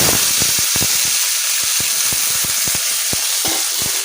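Yardlong beans sizzle in a hot pan with a steady, loud hiss, punctuated by sharp clicks of stirring at an irregular rhythm.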